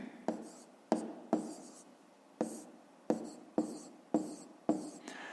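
Pen or chalk writing numbers by hand during a fifth-grade maths lesson, heard as a series of short, quiet scratching strokes at irregular intervals, close and alone.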